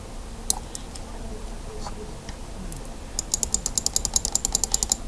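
Computer mouse clicking while working with a pen tool on a design, a rapid run of crisp close clicks near the end after a few scattered taps, with a voice speaking over a quiet room.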